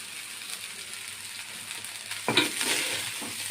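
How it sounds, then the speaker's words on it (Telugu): Rice being mixed with a fried tempering of curry leaves and spices in a pan, a low soft sizzle with a louder burst of scraping and stirring toward the end, with no talking. "వేయించుకున్న పోపులన్నీ రైస్కి పట్టేలాగా కలుపుకుందాం."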